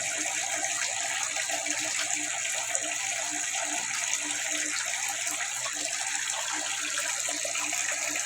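Water rushes steadily and continuously during a water change in a backyard tilapia tank, a bright, even hiss with no pauses and no talk.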